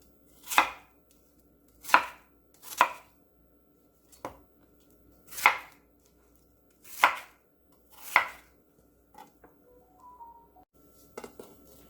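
Seven sharp knife chops on a cutting board in an uneven rhythm, close and loud, followed by a few lighter clinks and taps.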